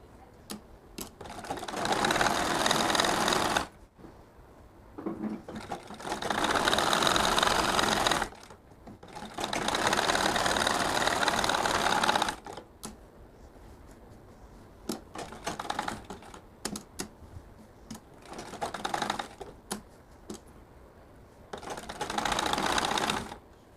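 A sewing machine stitches a fatua shirt in several long loud bursts of steady whirring, separated by short pauses and small clicks.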